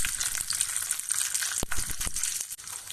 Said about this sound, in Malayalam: അതിനായി എണ്ണയിലേക്ക് 1/4 ടീസ്പൂൺ കടുകും കറിവേപ്പിലയും